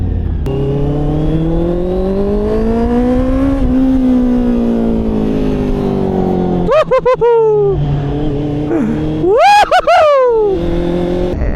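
Honda CB650 motorcycle fitted with a new exhaust, its engine revving loud and near: a long rising drone, then sharp quick blips with falling pitch sweeps, alone without talk.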